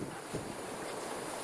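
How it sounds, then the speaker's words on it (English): Wind of 18 to 20 knots blows behind a small boat alone on the Atlantic, heard as a loud, steady roar of wind buffeting the microphone, with broad rushing noise and no other sound. "We've got between 18 and 20 knots of wind behind us."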